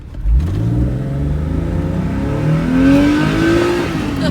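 A 2007 Porsche 4S convertible's engine revs up close by, its howl climbing steadily in pitch, easing briefly, then rising again toward a high scream.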